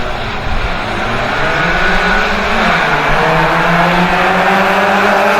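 Class C cars in a VW Pozidrive race pull away at the start, a loud continuous roar of several engines revving and rising in pitch, dense and steady throughout.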